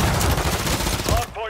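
Rapid automatic gunfire in a Call of Duty Hardpoint match, dense bursts of shots close and loud for over a second, then cutting off to quieter game sounds with a short tonal beep.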